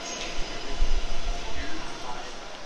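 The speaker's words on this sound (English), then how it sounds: "Just some quick footage of the Canberra Explorer departing, platform 2." The Canberra Explorer train pulls away from platform 2, a low rolling rumble with faint wheel and rail noise, fairly close and steady over a short span.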